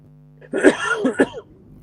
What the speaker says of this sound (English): I'd got a cough for no reason.